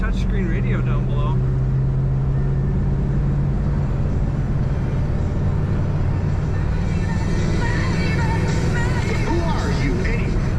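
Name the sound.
1939 Buick Special coupe engine while driving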